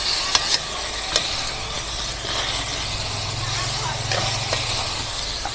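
A spoon stirs pork tinola with coconut milk and turmeric in a pot, a steady bubbling simmer and hiss with a few sharp clinks of the spoon against the pot rim, close up and with no talking.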